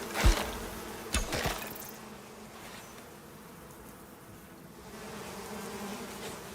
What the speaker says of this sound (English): Let me stab this swarm of bees with my knife.